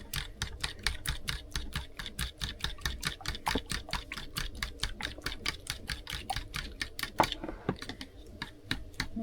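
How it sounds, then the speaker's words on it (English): Eggs whisked by hand in a bowl: a fast, steady run of sharp clicking strokes continues for the whole stretch, close and clear, with no talking. "what we're going to do now is mix up the eggs, whisk them up"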